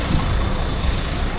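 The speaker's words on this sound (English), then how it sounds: "I'm gonna get away from there because the buses are kind of loud" Buses passing along a street beside a waterfront in Trogir, Croatia, giving a steady, loud, broadband engine and road rumble with no talk over it.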